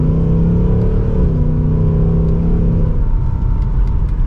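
A 2024 Ford Mustang GT Premium V8 pulls hard under acceleration, its engine and exhaust producing a deep, steady rumbling drone that rises slightly in pitch, loud and continuous with no talking.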